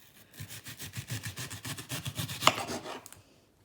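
A knife chops steadily through an onion on a cutting board, a fast even run of crisp thuds and slicing scrapes close up, with one sharper knock near the end and no talking.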